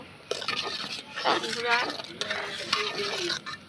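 Bhog khichuri being stirred in a pot over medium heat: steady scraping and stirring with a soft sizzle running throughout, a brief voice-like tone rising near the middle.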